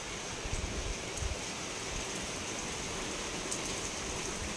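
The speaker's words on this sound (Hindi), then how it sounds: "एते जोर रे वर्षा" Heavy rain falls in a dense, steady roar that runs throughout, with a few faint low thumps near the start.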